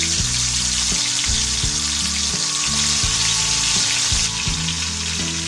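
Prawns for a crispy, spicy prawn fry sizzling in a pan over medium flame, a loud, continuous crackling fry with occasional stirring clatter.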